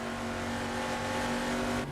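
Car engine driven hard in the Assetto Corsa racing game, a loud sustained high-revving drone holding steady for about two seconds before dropping off sharply at the end.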